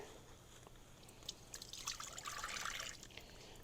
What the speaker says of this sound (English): We're going to add 1 cup of water.